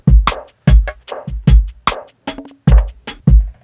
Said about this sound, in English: I sequenced a really simple little drum loop here on the black box using some samples that I had.